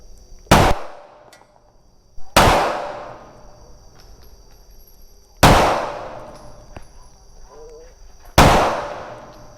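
Four sharp, loud pistol shots from a Beretta 92FS Compact Inox fired at a shooting range, spaced unevenly a couple of seconds apart, each with a ringing decay and faint background between.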